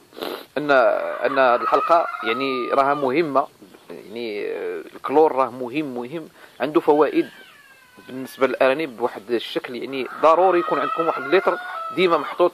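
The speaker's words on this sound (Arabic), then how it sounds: "كنعتذر على الصوت ديال المقاقيه ديال الدجاج، لان وقيتهم هذه باش كيوضعوا البيض" Hens cackling loudly at egg-laying time carry on in repeated bursts close by, mixed with someone speaking steadily over them.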